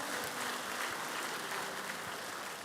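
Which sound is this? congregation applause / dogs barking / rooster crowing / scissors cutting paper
congregation applause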